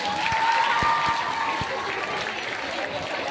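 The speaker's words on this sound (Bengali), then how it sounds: "তার জন্য হাততালি হয়ে যায়" An audience applauds a young performer at a stage event, a steady wash of many clapping hands lasting a few seconds, moderately loud with a faint tone lingering in the background.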